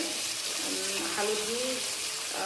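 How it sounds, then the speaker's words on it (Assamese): Steady sizzle of turmeric-coated fish frying in oil fills the clip, a continuous bright hiss with faint tonal streaks drifting through it, moderately loud and close. "অলপ হালধি দি পেলাই মাছখিনি ভালদৰে ভাজি ল'ম"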